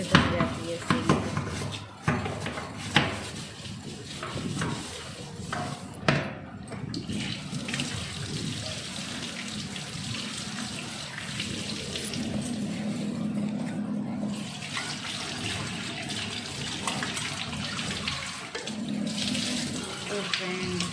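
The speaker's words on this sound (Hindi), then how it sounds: "हमने छोटा सा ब्रश ला रखा है सिंक धोने के लिए, अच्छे से धो जाती है सिंक" Running tap water pours into a kitchen sink while a small brush scrubs and rinses it, a steady close splashing wash with occasional clinks of dishes and intermittent scrubbing bursts throughout.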